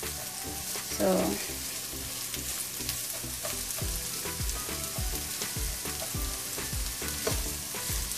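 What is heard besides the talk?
onions sautéing in a pan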